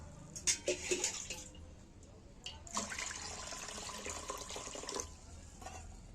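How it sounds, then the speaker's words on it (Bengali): Water poured into a wok set on a cooking stove, heard as splashing, running pours in two bursts, the longer one lasting a couple of seconds, moderately close. "এবার আমি উনুনে কোড়া বসিয়ে দিয়েছি কোড়ায় দু জল দিয়ে দিচ্ছি"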